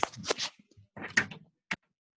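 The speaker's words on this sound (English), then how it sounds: "let me see if I can get this door open" A door at a veterans' museum being worked open, with a cluster of rattling, scraping handling noises followed by a single sharp knock or latch click, close by in an otherwise quiet room.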